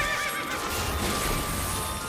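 A horse in the Final Fantasy XIV video game neighs loudly and continuously over a dense wash of game sound, with faint hoof clip-clops mixed in and no talk.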